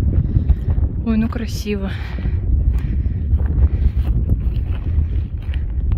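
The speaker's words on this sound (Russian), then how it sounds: "Ветер." Gusty mountain wind near Gutanasar, Armenia, rumbles and buffets the microphone throughout while a person briefly speaks near the start.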